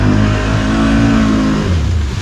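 A Polaris Sportsman ATV on 28-inch mud tires revs hard and steady while its wheels spin in deep mud, the loud close engine drone holding throughout before easing slightly near the end.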